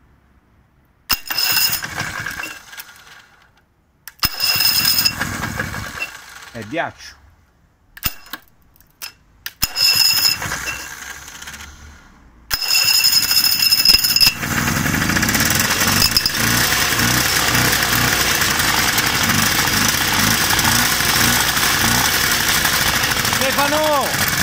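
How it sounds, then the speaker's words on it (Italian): A Vespa 50 XL scooter engine is cranked in short bursts amid people talking, then catches and settles into a loud, steady two-stroke idle that runs on unbroken near the microphone. "ben ripigliato il motore, pronto"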